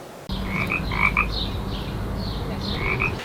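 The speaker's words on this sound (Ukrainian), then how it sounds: "а у тутешніх калюжах мешкають жаби і навіть дають концерти" Frogs croak from puddles beside a rubbish dump between apartment blocks, several calls overlapping in short repeated bursts over a steady low outdoor hum, fairly close and clear with no talk.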